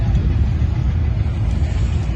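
A 1950s single-cylinder Deutz tractor engine runs steadily at a tractor show, a loud, close, low rumbling chug that continues throughout with no voices.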